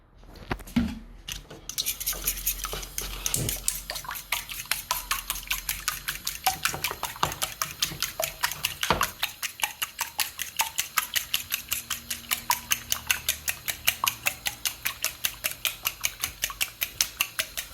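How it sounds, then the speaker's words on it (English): Eggs being whisked with a splash of soy sauce for the egg part of Mauritian chicken fried rice: a fork or whisk beats rapidly against the bowl in a steady, close, even rhythm of light clicks for most of the stretch, with no talk. "we're going to whisk them up because it's going to be part of our sort of eggy part of the fried rice"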